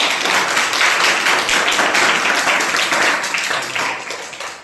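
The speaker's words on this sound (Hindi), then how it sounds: "ताली जोरदार बजनी चाहिए" Audience applause at a school awards ceremony, dense sustained clapping from many hands, loud and close, gradually tapering off toward the end.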